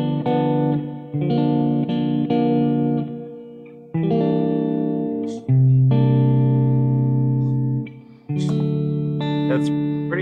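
A microtonal Kite Guitar played through distortion rings out in loud, sustained chords that change every second or two in a slow progression, heard alone without talk.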